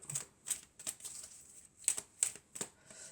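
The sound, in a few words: tarot cards being drawn from the deck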